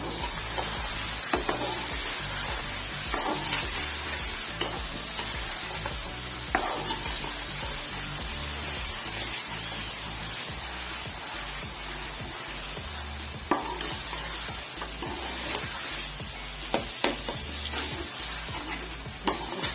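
Chicken curry masala frying in a pan with cumin, black pepper, cinnamon and cloves, a continuous close sizzle broken by scraping stirs and occasional clinks of a utensil against the pan.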